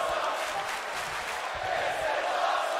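Arena crowd in the wrestling game WWE 2K19 gives a steady, moderately loud roar of cheering with no distinct breaks throughout.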